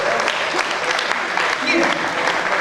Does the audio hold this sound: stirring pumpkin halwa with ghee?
no